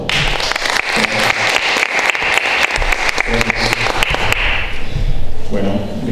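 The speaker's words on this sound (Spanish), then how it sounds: "Le damos un fuerte aplauso," Loud, sustained audience applause fills a lecture hall after a planetary scientist is introduced, dense clapping running throughout with talk over it near the end.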